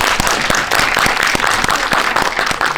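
A loud, dense round of audience applause for actress Anna fills a cinema during a Korean independent film opening-night event. Crowded clapping stays steady and close throughout.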